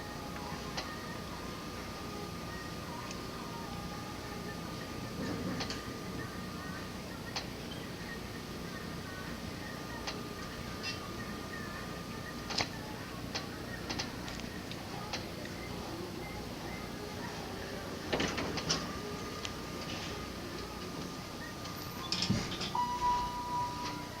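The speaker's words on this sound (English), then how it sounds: "It's a Dover Impulse elevator." Dover Impulse elevator at the Quality Inn, Rosebud Casino in Mission, South Dakota, with a steady low hum and faint scattered clicks and ticks during the ride, plus occasional short electronic tones.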